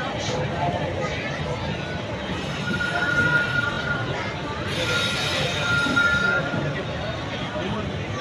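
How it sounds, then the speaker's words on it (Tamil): Passenger train pulling out of Nagapattinam on the line to Karaikal, a continuous rolling rumble of carriages with rising wheel squeal and clatter, heard from on board over a hum of voices. "நாகப்பட்டினத்திலிருந்து வண்டி கிளம்புது பாருங்க"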